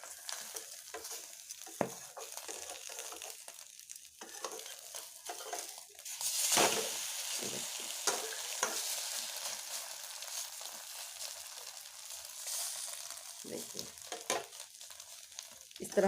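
Omelette batter sizzles and fries steadily in a hot pan on a home stove, with occasional scrapes and stirring clicks of a utensil, close and continuous without talk.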